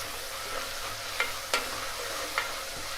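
Ginger and garam masala stirred in a hot pan for coconut milk biryani, a low background sizzle broken by three or four sharp scraping strokes of a spoon.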